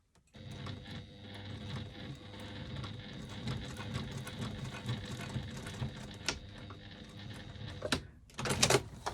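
A sewing machine stitches a key fob strap an eighth of an inch from the end, giving a steady low motor whir with rapid needle pulses, close and continuous, ending in a few sharper clacks.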